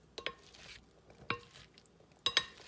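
Celery salad being tossed in a roomy bowl: a few sharp clinks and scrapes of utensils against the bowl with soft rustling of leaves between them, close and otherwise quiet.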